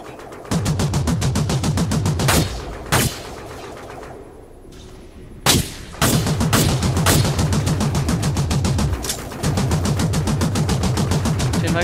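Rapid automatic gunfire in the shooter Dust 514, a dense continuous rattle of shots broken by brief pauses and a few louder single blasts, close and loud throughout.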